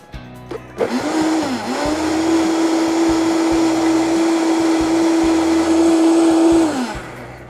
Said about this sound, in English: Now you're just gonna blend it just for a little while, like I said, until it becomes nice creamy substance.